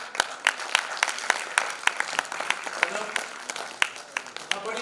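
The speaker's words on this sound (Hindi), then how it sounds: "बड़ी धीरे ताली बज रही है," Audience at a lifestyle success celebration program claps slowly and unevenly, with sharp individual handclaps spaced irregularly over a steady crowd murmur, fairly close and moderately loud.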